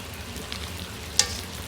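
Mantis shrimp cooking with wine in a frying pan give off a soft steady sizzle while being stirred, with a light scrape or clink of the utensil near the end.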